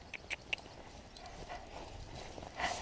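A few hoof clops on hard ground, fairly faint and spaced out, with outdoor background noise and no talking.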